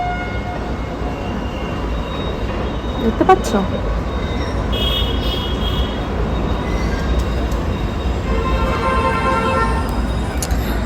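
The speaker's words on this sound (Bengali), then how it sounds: "এই দেখো ট্রেন যাচ্ছে" A train rolls past close to a railway station in Kolkata, a loud continuous rumble of wheels and carriages with brief metallic squeals, while people talk over it.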